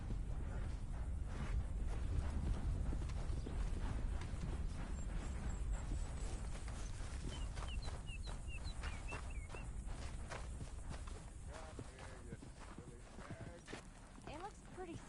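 Horse hooves walking in Red Dead Redemption, a steady clip-clop close by with a faint bird call in the background, partly under voices talking.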